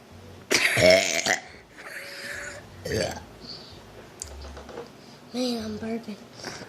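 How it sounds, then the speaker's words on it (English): Loud burps up close, several throaty belches with pauses between them and a person talking in between. "Man, I'm burping. It's so loud."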